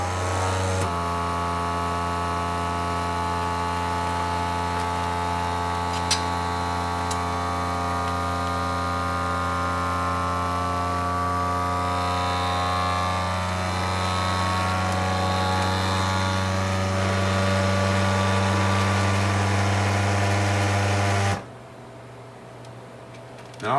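A vacuum sealer sealing a bag of blueberries for a freezer pack drones steadily with a loud motor hum for about twenty seconds, then cuts off abruptly, leaving quiet room tone.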